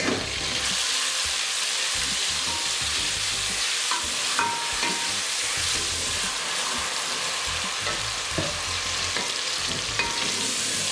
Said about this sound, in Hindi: जब तक टमाटर का पानी खुश्क नहीं हो जाता तब तक मैं इसको भूनूंगी